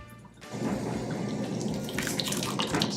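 Liquid pasta mixture is poured into a kitchen strainer, a steady splashing, running-water rush that starts after a quiet half-second and continues close and fairly loud to the end, with no talking.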